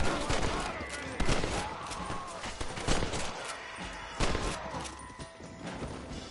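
Gunfire in a Red Dead Redemption western shootout: loud, sharp shots ring out in separate bursts with echoing tails over a rumbling game soundscape, and faint voices are heard at times.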